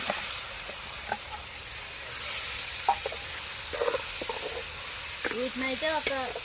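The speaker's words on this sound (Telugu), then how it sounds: "ఇప్పుడు ఇందులో మనం పక్కన మిక్స్ చేసి పెట్టుకున్న ఈ టమాటాలు, పసుపు ఇవన్నీ వేసుకుందామండి" Tomatoes and turmeric go into hot oil with curry leaves for moong dal, producing a soft sizzle with scattered spoon taps; a voice speaks briefly near the end.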